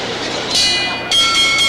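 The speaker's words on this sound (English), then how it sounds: "The bell for round two." A boxing bell rings to start round two at a heavyweight fight, sounding two bright metallic rings that sustain loudly over crowd noise.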